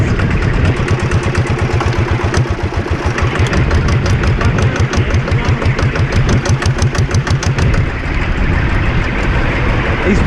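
A 7 1/4 inch gauge miniature locomotive with hydraulic drive runs steadily up close, its engine droning loudly with a rapid pulsing beat and a whining tone throughout.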